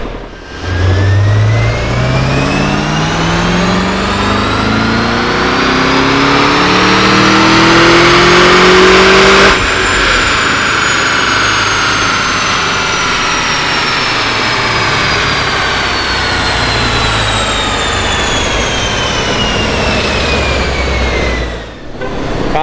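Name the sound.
LS2 engine car revving to rev limiter on dyno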